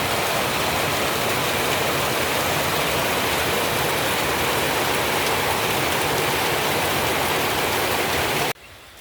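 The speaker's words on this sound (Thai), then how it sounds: "ฝนนี่ตกดีขนาด" Heavy rain falls steadily near a flooding creek in the Laos–Thailand border area, a dense continuous hiss that stays loud and unbroken for about eight and a half seconds before cutting away abruptly.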